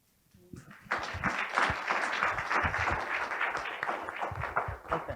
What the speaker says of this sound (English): If you have to applaud, do a good job of it.